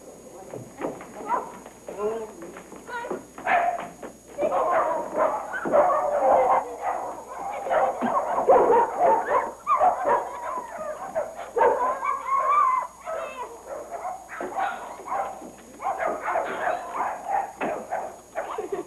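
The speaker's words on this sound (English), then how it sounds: "Just playing with dogs." Several dogs bark, yip and whimper close by in a 1938 film scene, the noises coming in bursts under and between people talking.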